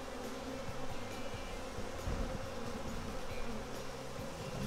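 A dense, steady hum of many honey bees buzzing close by from an aggressive hive, continuous and low-pitched with slight swells in intensity.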